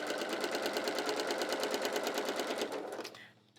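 A sewing machine runs steadily, stitching a pocket along a fold line, its needle pulsing in a fast even rhythm, close and loud, for about three seconds before stopping.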